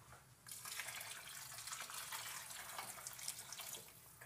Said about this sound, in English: Then I'm going to add more water to this.